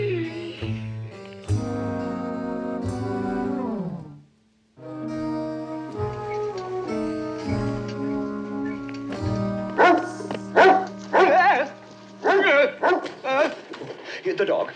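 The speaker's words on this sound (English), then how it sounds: "Ellen, out with the dog, please." A dog barks and yips repeatedly in a domestic scene. Sharp barks come in quick bursts near the end, with music or voices and other sounds mixed through the rest.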